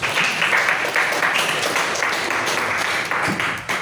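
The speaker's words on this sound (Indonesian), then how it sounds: "beri tepuk tangan untuk Cherry" Applause from a classroom audience for a student named Cherry during a sociology lesson on social interaction, a steady even patter of many hands clapping for a few seconds with a faint voice rising near the end.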